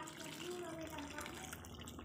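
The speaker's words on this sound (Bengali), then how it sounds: "আমি এবার একটু গরম জল ঢেলে দিচ্ছি।" Hot water is poured into a pot of chicken curry, making a steady, faint splashing pour that runs throughout, with a voice talking quietly underneath.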